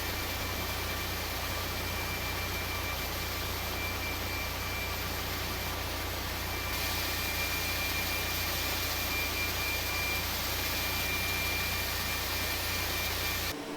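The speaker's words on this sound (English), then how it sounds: "and then start the engines" Steady jet engine roar of a Beluga ST aircraft in a flight simulator game, a broad continuous hiss and hum spooling up slightly halfway through, loud and unbroken with no talking.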